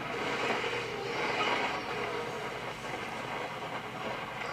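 A train running in the video game BeamNG with a train mod, giving a steady rolling rumble and rattling wheel noise at an even level throughout.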